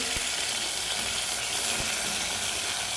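Cumin seeds sizzle in hot oil in a pan, a steady broadband frying hiss that holds level throughout with a couple of faint clicks, no voices present.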